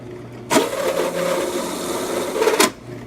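A drill bit chamfers a 1/4-inch hole in a metal strike plate, a steady close grinding whir of about two seconds that starts and stops abruptly.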